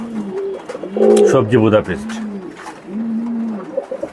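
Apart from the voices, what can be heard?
racer pigeons cooing, Belgian bloodline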